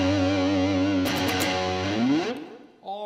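Thick, sustained electric guitar chord through a TC Electronic MojoMojo Paul Gilbert Edition overdrive pedal with heavy distortion, a short choppy flutter midway, a bending slide down, then a fresh note struck.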